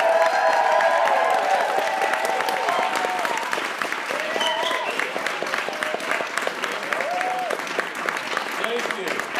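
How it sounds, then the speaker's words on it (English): Audience at the Whistler Film Festival applauding to welcome Alan Thicke onstage: dense, sustained clapping from a crowd that continues throughout, with a voice speaking over it. "Keep the applause going, everybody, and give a warm Whistler welcome to Mr."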